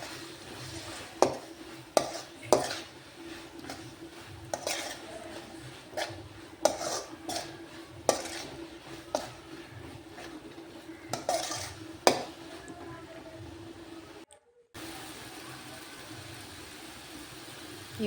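Coriander powder, garam masala, chilli powder and a little turmeric are stirred and fried together in a pan for tomato bath: a soft background sizzle broken by repeated clinks and scrapes of a spoon against the pan, with no talking.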